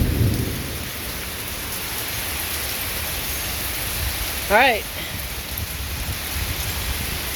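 Steady heavy rain falls outdoors through a thunderstorm, a dense continuous hiss with low thunder rumbling underneath, while a person speaks briefly near the start.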